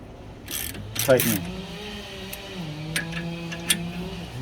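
A ratcheting tool tightens the bolt on a tie rod removal tool on a 2007 Mercedes S550, giving a few clicks and mechanical creaks, close by and fairly quiet.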